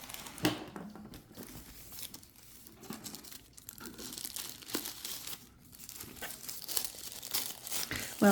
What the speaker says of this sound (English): Well, it is only tissue paper